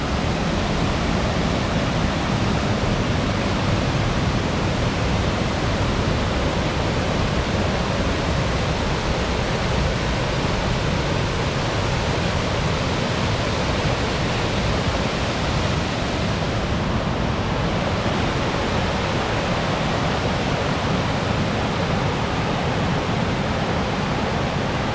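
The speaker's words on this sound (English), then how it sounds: "There's so many rapids on this creek" Rapids rush loudly and steadily along a creek near Multnomah Falls, a dense, unbroken roar of close white water with no voices throughout.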